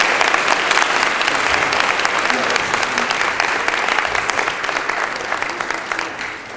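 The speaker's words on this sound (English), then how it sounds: "So let's give her a real good round of applause." A school audience applauding at an elementary school award assembly, loud dense clapping that carries on steadily and tapers slightly toward the end.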